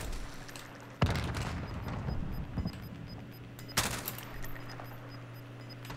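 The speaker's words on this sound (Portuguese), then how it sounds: "tá tendo tiroteio feio ali, velho" Gunfire in the video game Call of Duty: Warzone, with sharp shots and bursts at a distance under a steady game background, two louder cracks standing out, and no talking.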